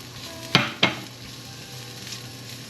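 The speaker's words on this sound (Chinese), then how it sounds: "锅内有放一点苦茶油，把杏鲍菇炒香" King oyster mushrooms stir-fried in a pan with a little camellia oil: a soft constant sizzle broken by two sharp scraping stirs near the start, close and alone.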